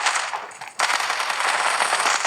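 Rapid automatic gunfire in a video game rattles in a dense, continuous burst after a brief lull, loud and close.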